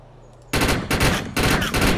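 Automated turret gunfire in the sci-fi shooter Defiance erupts suddenly after a quiet moment, loud rapid bursts that briefly pause and then resume, with no talking.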